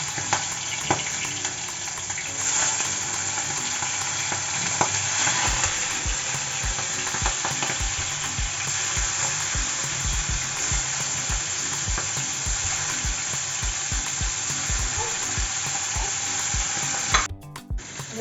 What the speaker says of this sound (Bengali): কড়াইতে প্রায় তেলটা গরম হয়ে গেছে। এবার একটার পর একটা আমি চিংড়ি মাছ